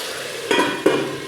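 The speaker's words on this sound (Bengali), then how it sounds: "আর এখানে হচ্ছে দেখো আলু ভাজা হচ্ছে সোয়াবিনের।" Potatoes with soybean chunks frying in a pan, a steady broadband sizzle with two short stirring scrapes near the middle, close and moderately loud, no talking.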